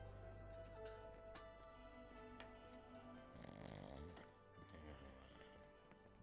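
A sleeping character snores in the video game Sherlock Holmes: The Awakened, steady breathy rhythm under game music and ambience throughout.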